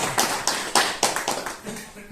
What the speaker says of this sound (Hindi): ताली बजाओ हमारे।